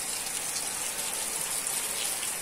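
Steady rain falls outside during an afternoon, a constant even hiss of water with no breaks and no voices.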